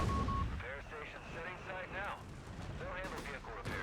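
Mortar smoke barrage in Company of Heroes 3, heard as muffled booming shell impacts and distant battlefield fire, faint beneath steady overlapping commentary from casters.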